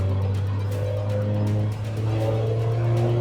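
A Dallara Stradale sports car engine drones steadily with a deep, strong low hum and a faint upper whine, close and continuous, dipping briefly midway before holding its note again.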